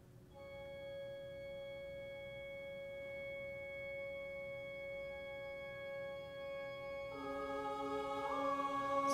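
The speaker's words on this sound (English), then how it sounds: "Sounds like we got an organ." Sustained organ chords from a song hold steady and fairly quiet, then thicken and swell louder over the final seconds.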